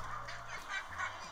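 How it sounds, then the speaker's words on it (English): Ducks scurrying under a car, giving faint nasal honks and quacks over a steady low background hum, with a few short calls close together. "here's a little video of some ducks running under a car"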